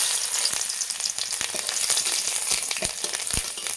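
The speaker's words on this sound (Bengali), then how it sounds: "রসুনটা ভাজা হয়ে গেছে, লঙ্কাটাও ভাজা হয়ে গেছে" Chopped garlic and a broken dried red chili frying in oil with a steady, bright sizzle, with occasional light stirring clicks and no talking.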